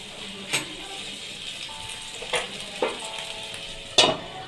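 Vegetables frying in a pan with salt and turmeric give a steady soft sizzle, with a few distinct scraping stirs of a spoon against the pan at intervals.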